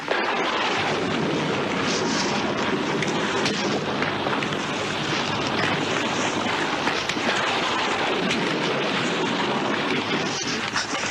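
Heavy rain with rumbling thunder in an Indonesian radio-style drama, a dense, loud, continuous wash of downpour with low rolling booms throughout.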